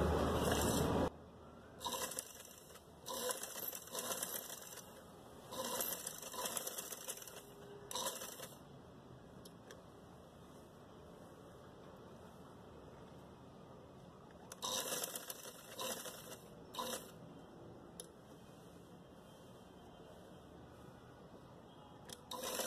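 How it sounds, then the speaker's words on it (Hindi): A sewing machine stitches fabric in short bursts of rapid mechanical clatter separated by quiet pauses, heard fairly faint and close with no talking. "ये देखें, ये इस तरीके से हमने सिलाई की है।"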